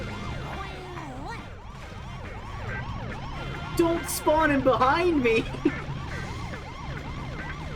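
A police car siren wails continuously in a chase in The Simpsons Hit and Run, its up-and-down sweep mixed with engine noise and a brief crash, while a player shouts over it.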